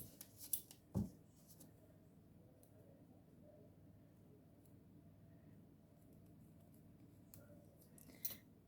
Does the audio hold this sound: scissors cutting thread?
yes